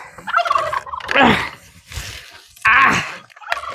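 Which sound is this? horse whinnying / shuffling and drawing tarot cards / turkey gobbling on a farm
turkey gobbling on a farm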